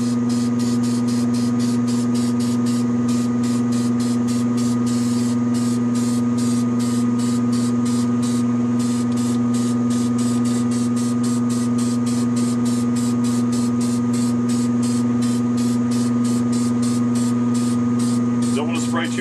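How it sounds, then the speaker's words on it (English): A loud ventilation fan roars steadily with a strong low hum during spray painting, a rapid pulsing hiss layered on top throughout. "We're going to turn on the vent here. It's going to be kind of loud."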